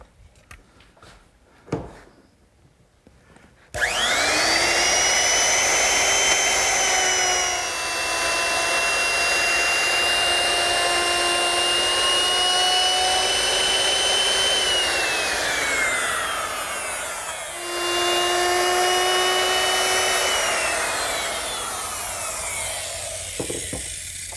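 Router with a molding bit cutting the edges of a wooden cross piece along a guide fence for a standing mirror. A loud whining motor starts abruptly, runs steadily with a brief dip partway through, and then winds down, with no voices.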